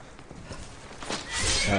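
A horse in the video game Skyrim whinnies loudly over rapid clip-clopping hooves, the neigh rising and swelling toward the end.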